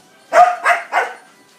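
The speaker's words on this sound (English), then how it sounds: "this is Coco, she's a Labrador, very frisky, I'm just going to let her go for an example" A frisky Labrador barks three times in quick succession, close and loud, with a brief pause between each bark and quiet afterward.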